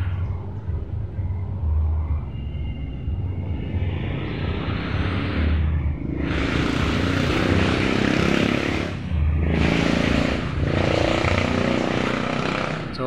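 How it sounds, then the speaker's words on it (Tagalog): Roadside traffic: a constant low rumble of engines with vehicles swelling loudly past in two or three broad whooshing waves, fairly close and continuous throughout. "So medyo maingay guys kasi nasa tabing kalsada tayo dito sa"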